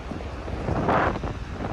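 Wind buffets the microphone in a low, rumbling roar beside freezing seawater in Canada, swelling briefly in the middle, close and constant with no voice.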